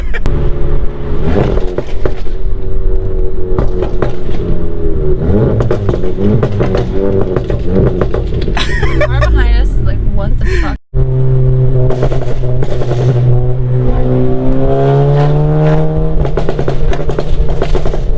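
A Stage 2 tuned VW Golf GTI MK7 with an EQT tune drones and revs from inside the cabin, with bursts of crackling exhaust pops and bangs, while people talk loudly over it.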